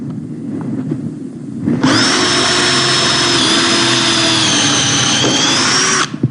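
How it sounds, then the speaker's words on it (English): Cordless power drill with an adjustable clutch boring a hole: after a quiet moment the motor spins up and holds a loud, steady whine for about four seconds, then cuts off abruptly. "Let's drill this hole."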